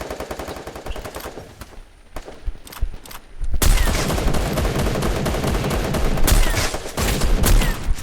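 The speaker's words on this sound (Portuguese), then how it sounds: "Tiro" Rapid automatic gunfire crackles in the mobile game Free Fire, scattered shots first, then a dense, continuous barrage of loud bursts that runs to the end.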